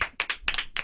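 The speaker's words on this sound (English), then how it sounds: "Hey, round of applause for Jeff Burton." Brief burst of clapping from a small group in a live radio studio, several uneven bursts of hand claps close to the microphone.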